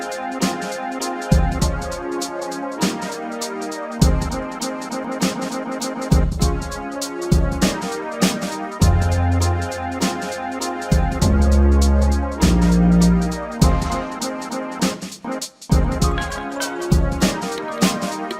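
A looped beat chopped from a single sample and layered with one instrument in BandLab, with punchy drum hits, a steady groove and short bass stabs, loud and close throughout.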